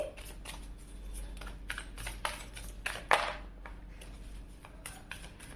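Tarot cards being shuffled for a Hindi card reading, giving repeated crisp riffling bursts and taps that rise to a louder flurry near the middle over a low steady hum, with no voice.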